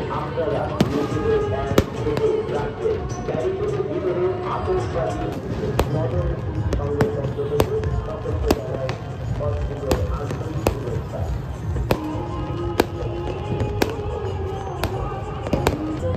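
Firecrackers burst repeatedly at a Chhath Puja celebration by a riverside ghat in Malda, sharp cracks popping at irregular intervals, some near and some distant, over crowd noise and a person talking.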